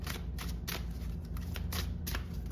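Tarot cards shuffled by hand in a continuous riffling rustle, with several sharper bursts of card noise over a steady low background hum, no talking.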